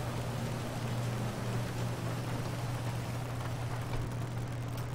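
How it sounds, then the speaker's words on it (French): Rain falling in the video game GTA V Online, a steady, even hiss of rainfall at low level with a constant low hum beneath it, no voices. "Oh, la pluie! Effet magnifique."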